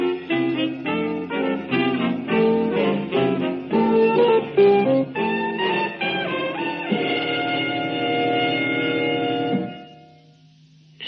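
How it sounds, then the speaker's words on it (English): Swiss Radio Orchestra playing the Swiss Radio International identification music, a bright melodic orchestral phrase of bell-like notes ending on a held chord that fades out, heard alone. "This is the sound of the Swiss Radio Orchestra playing the identification music for Swiss Radio International in"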